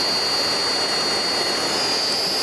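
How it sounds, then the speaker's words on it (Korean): Makita cordless 36V water pump attachment running and spraying water outdoors, a loud, continuous motor whine with a steady high tone and rushing hiss, close and unvarying. "지금 36V 제품으로 사용했을 때 분당 140에서 145L 정도의 물량을 뿜어낸다고 합니다."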